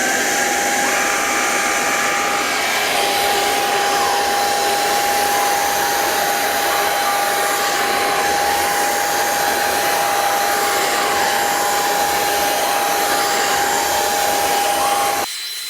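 A Proscenic P10 Pro cordless vacuum with its mini brush runs steadily over a cushion, pulling up cat hair with a constant loud whirring roar and a thin high whine that cuts off abruptly at the end.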